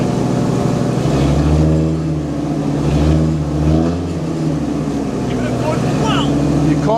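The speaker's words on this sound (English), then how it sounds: "You can't rev an engine when it's cold, Benjamin." A monster truck engine idles roughly and is revved in loud, drawn-out surges, with a deep rumbling tone that rises and falls up close, while a person talks over it.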